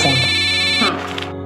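A mobile phone rings with a bright, sustained electronic ringtone for about a second before cutting off into a voice speaking.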